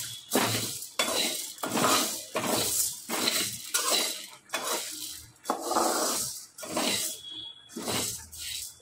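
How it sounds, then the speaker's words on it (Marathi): Sago pearls roasted in a pan and stirred, giving loud, close, rhythmic scraping and rattling strokes roughly every half second, with no talking. "आपण त्यासाठी साबुदाणा भाजून घेतोय, भाजल्यामुळे तो पटकन मिक्सरमध्ये वाटला जातो।"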